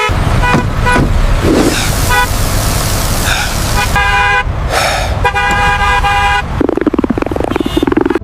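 Car horns honk repeatedly in a traffic jam, with several overlapping toots and long blares over steady road and engine noise, loud and close throughout.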